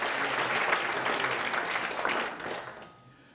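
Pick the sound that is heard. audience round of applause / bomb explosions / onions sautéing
audience round of applause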